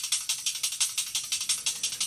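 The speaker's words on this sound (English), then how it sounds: "in this track we use this thing as noisy percussive layer" A noisy, high-pitched percussive layer in a fast drum-and-bass style production, ticking in a rapid, steady pulse of short hissy hits, about a dozen in two seconds, with nothing low underneath.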